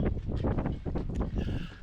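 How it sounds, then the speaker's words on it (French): Gusty wind buffets the microphone in low, uneven rumbling bursts at a boat anchorage, loud and close, with faint water-like noise behind it. "Ah, il y a toujours du vent."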